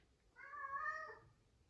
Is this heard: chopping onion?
no